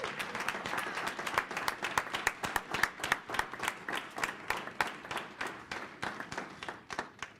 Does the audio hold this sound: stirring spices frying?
no